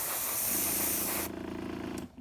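Aerosol spray paint hisses in a steady, close burst onto a model bomber during a conversion build, then cuts off and leaves a quieter hiss that fades out.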